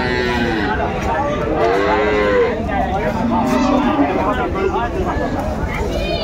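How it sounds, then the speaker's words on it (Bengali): Cows and calves at the Aftabganj cattle market in Bangladesh moo repeatedly, several overlapping long lowing calls amid a constant crowd murmur and nearby chatter. "গাভী বাছুর আমরা দেখছিলাম এখানে"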